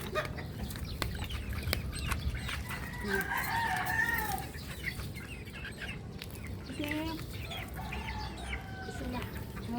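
Gamefowl roosters, including talisayin and cobra breeds, crow and cluck at a backyard farm in hot weather, with several overlapping crows at moderate distance over a steady background.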